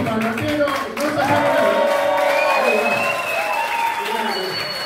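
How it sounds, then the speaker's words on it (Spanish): A concert audience at a municipal harp orchestra performance applauds in a steady wash of clapping, with a voice speaking over it throughout. "aplauso para Marcelo"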